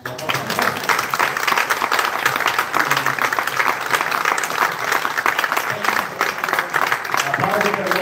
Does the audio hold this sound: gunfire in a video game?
no